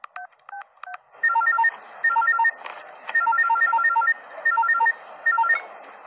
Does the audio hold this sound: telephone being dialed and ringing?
yes